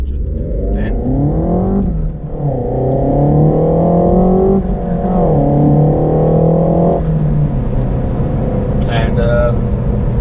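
A 2018 Renault Megane RS with its 1.8 liter engine accelerating hard through several gears, loud rising exhaust roar with clear pitch drops at each shift, and a voice speaking over it.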